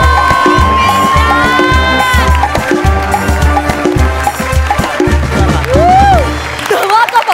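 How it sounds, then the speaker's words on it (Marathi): A studio audience at a Marathi comedy show breaks into loud, sustained applause with cheering and whoops, a dense clapping wash lasting throughout, with music tones and a few voices riding on top. "बुंबाट सुसाट जोरदार टाळ्या"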